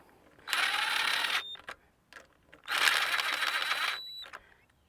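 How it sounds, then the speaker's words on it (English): Two bursts of a power driver whirring as screws are run down on a Comet P40 softwash machine, close and fairly loud, with clicks between them. "Screw them down."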